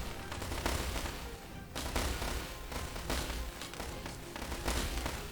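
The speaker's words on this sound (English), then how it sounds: "The wheeled tanks are firing on my town hall." Wheeled tanks shelling a town hall in a war strategy game produce a dense, continuous barrage of booms and gunfire that stays loud and steady throughout, with no talking.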